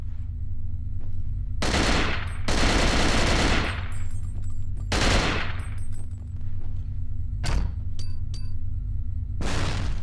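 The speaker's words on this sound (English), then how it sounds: "here's 2 grenade shots, and that is sufficient to take it out" Grenade launcher blasts in the survival horror game Cold Fear: several loud, broadband bursts come in irregular succession, each with a short decaying tail over a steady low engine-like drone and faint metallic clinks.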